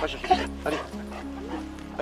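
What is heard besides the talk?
young hunting dog barking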